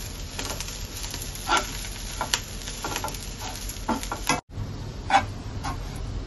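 Garam masala spices with fennel seeds dry-roast in a pan, faint scattered ticks, scrapes and soft crackles from the stirring over a low steady hiss.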